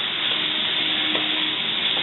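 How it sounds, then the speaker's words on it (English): Ground beef with green peppers and onions sizzling in a pan, a steady, dense close-up frying hiss with faint stirring scrapes and no voices. "I have my ground beef starting to go here now"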